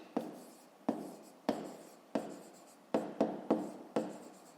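Pen writing on paper during a fifth-grade math exercise, a series of close, quiet scratching strokes in short separate bursts, about eight of them, with no voices.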